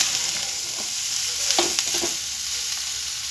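Mutton rakti fries in a pan while being stirred, a steady close sizzle with a few soft scraping strokes of the spoon and no talking.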